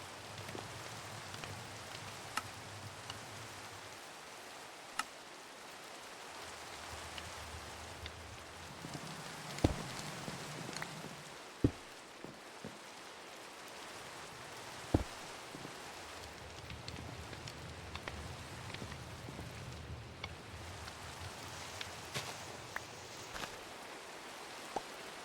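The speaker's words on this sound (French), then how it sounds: "Trop bien, il pleut." Rain falls outdoors with a steady, soft hiss of drops on surfaces, interrupted by occasional sharp taps and knocks. Low rumbles and handling noises come and go underneath, and no one speaks.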